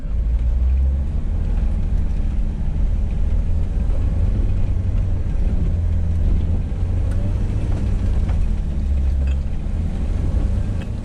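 A van engine strains at maximum revs in first gear while stuck in beach sand, a loud, steady, droning rumble that holds with little change throughout.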